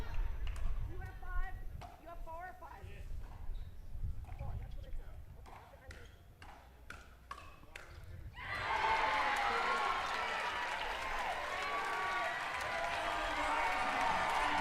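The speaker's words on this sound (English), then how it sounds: "And the crowd is so loud right now." Crowd at a pro pickleball doubles match on championship court: sharp paddle pops and murmurs give way to a sudden loud, sustained burst of cheering and applause filling the second half.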